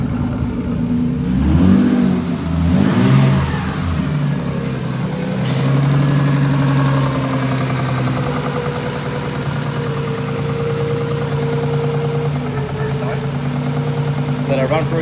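A Nissan R33 Skyline engine idles steadily with a couple of revs early on, a continuous mid-loud rumble with people talking over it.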